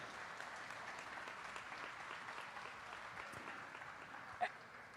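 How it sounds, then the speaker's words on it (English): Steady applause from an audience at a goat show sale, a continuous wash of clapping at moderate distance, with a faint murmur of voices underneath. "let's give him a round of applause"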